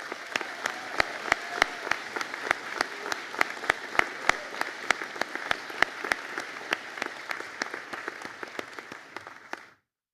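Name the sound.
graduation audience applause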